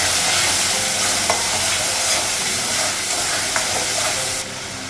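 Spices fry in hot oil in a pan as a Bengali home cook stirs them, a loud, close sizzle with scraping stir strokes, continuous until the hiss drops near the end, no talk.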